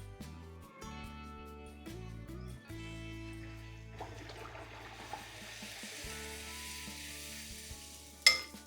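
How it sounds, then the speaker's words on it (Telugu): Poori deep-fries in hot oil with a faint, steady bubbling sizzle and a few soft stirring clinks, ending in a brief louder clatter; no voices. "ఇలా మంచి కలర్ వచ్చేంత వరకు ఫ్రై చేస్తేనే బాగుంటుందండి పూరి"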